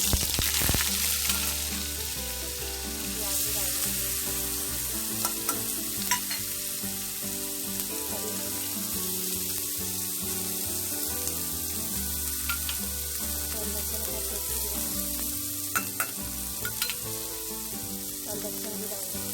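Oil and butter sizzle steadily in a cooking pot while garlic and spices for Punjabi-style sarson ka saag are fried, a continuous loud hiss with small crackles and bursts of stirring throughout.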